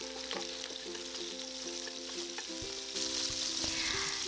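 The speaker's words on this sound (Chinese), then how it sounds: "放入我们的鸡翅，然后每一个面呢，我们给它煎到金黄色" Chicken wings fry in vegetable oil over high heat, giving a continuous, even sizzle that runs the whole time beneath background music.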